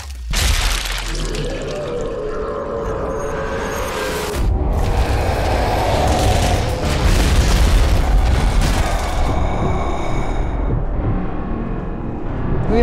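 Grenade blasts in the zombie shooter game Zombie Army Trilogy, one loud boom followed by another, with crackling, shattering debris and a long sustained roar that trails off slowly.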